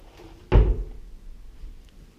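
A built-in wardrobe door in a renovated apartment swings open with a single loud thunk, then only a quiet room remains.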